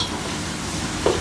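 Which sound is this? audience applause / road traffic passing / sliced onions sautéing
sliced onions sautéing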